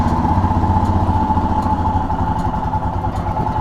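A Royal Enfield Himalayan motorcycle idling after a cold start, its single-cylinder engine chugging in a steady, fast, even rhythm with a clattery mechanical edge, loud and close throughout.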